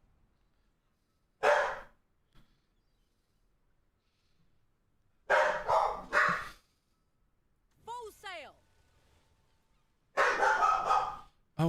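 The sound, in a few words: dogs barking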